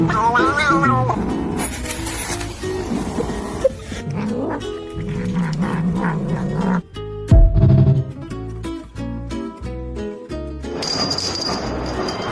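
Cats play-fighting and meowing in a busy mix of yowls, cries and scuffles, loud and close, broken by sudden cuts and sharp thumps, with some voices and other sounds mixed in.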